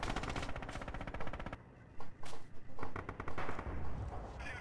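Bursts of DP-28 light machine gun fire in Red Orchestra 2, loud and close, with rapid rattling volleys that break off into shorter stuttering strings of shots over battle noise.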